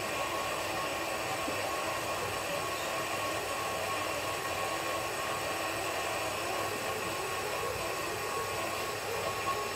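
A food processor or stand mixer runs steadily, kneading brioche dough for a Chinese cake; a continuous, even motor drone holds at a constant level throughout, with no talking.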